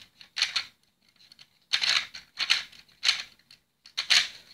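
Two-cylinder vacuum-powered Lego engine running, giving scratchy, rasping bursts in an uneven rhythm, about six close clusters of rapid clicking separated by brief quiet gaps.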